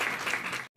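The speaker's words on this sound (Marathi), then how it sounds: "तर आपण त्याला टाळ्या वाजून चालतो." An audience at a short film festival award ceremony in Pune claps in a brief dense burst that cuts off abruptly and then resumes faintly.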